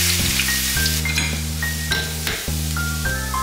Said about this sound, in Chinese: 肥肉炸得差不多，来把蒜蓉放下去